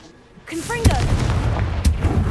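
A Confringo explosion spell goes off in a video game, with two sharp booming blasts about a second apart that are loud and close. A short spoken call comes just before the first blast.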